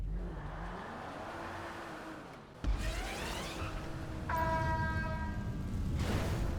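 Custom van driven at full speed in GTA Online, a continuous engine drone whose pitch sweeps up and down with gear changes and revving, loud and steady throughout with a sharp jolt partway through.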